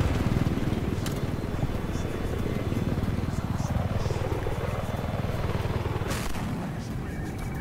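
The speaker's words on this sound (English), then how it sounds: "I have eyes on enemy helicopter operating to your left." Enemy helicopter in the Battlefield 4 video game, a loud, continuous rotor thrum and engine drone throughout, with a pulsing chop and occasional gunfire cracks mixed in.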